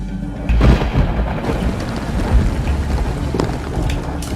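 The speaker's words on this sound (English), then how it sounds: "Well, it's raining" A steady outdoor rainstorm with rolling thunder, loud and constant, rain hissing on surfaces while low rumbles swell beneath it, with no voices.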